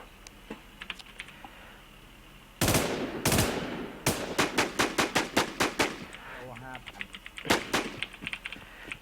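Gunfire in the video game WarZ: sharp, loud shots in a rapid burst followed by a string of evenly spaced single shots, close and dominant with little else around them.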